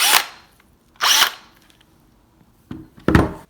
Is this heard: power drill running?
yes